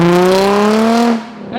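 A straight-piped Infiniti G35 roars loudly and close by with a steady rising tone, then drops off into quieter rumble and road noise.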